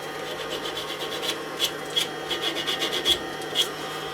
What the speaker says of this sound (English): I'm keeping the sandpaper constantly moving